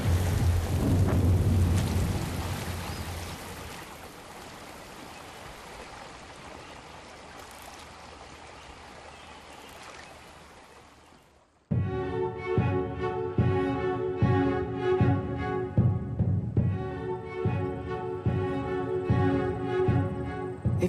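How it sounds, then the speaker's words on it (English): Heavy rainstorm roaring steadily with rumbling low thunder, fading down before a sudden cut into loud layered music. "A rainstorm can be deadly."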